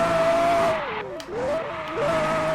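A car in a racing video game spinning out, with a steady engine drone that dips and bends in pitch as the tires skid, then recovers, all within a couple of seconds and without talk.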